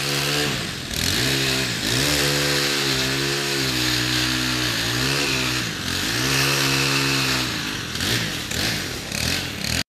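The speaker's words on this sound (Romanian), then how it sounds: "Sunetul drujbelor răsună zilele acestea în aproape fiecare cartier din Arad" Chainsaws cutting dry branches during autumn cleanup in an Arad neighbourhood, a loud, continuous engine whine that rises and falls through repeated revs for the whole stretch.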